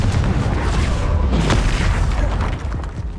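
Confringo blasting spell exploding in the Hogwarts Legacy video game, a dense, rumbling boom that fills the whole clip at steady loudness with a sharper burst near the middle, no talking.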